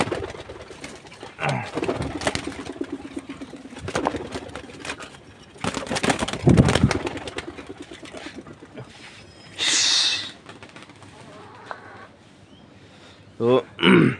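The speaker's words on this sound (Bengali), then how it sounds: "কিছু কবুতর আছে যাইতেছে না" Pigeons at a Bangladeshi pigeon-flying loft, with soft bird sounds and wing bursts scattered through the clip under frequent nearby talk from a man, and brief loud flutters near the end.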